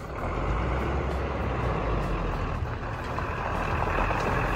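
A truck pulls away close by on a morning road near the LOC, with a continuous rumbling engine and air-brake hiss and no voices.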